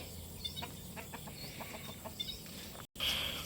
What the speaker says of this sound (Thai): ไก่บางส่วนก็เข้าเล้าแล้วนะครับ เข้าเล้านอนนะครับ